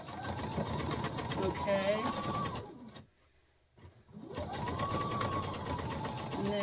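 A Viking sewing machine stitches in steady mechanical runs with a brief stop in the middle, close and moderately loud, with a person speaking briefly.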